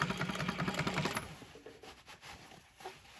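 Sewing machine stitching marine upholstery for a boat cover, a fast steady run of needle strokes for about a second that then stops, leaving faint handling noise and quiet room sound.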